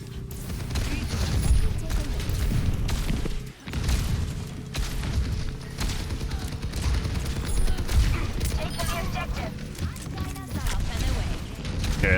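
Rapid gunfire and explosions in the Overwatch video game, a dense, loud barrage of shots and impacts running continuously over a busy game mix, with one brief lull.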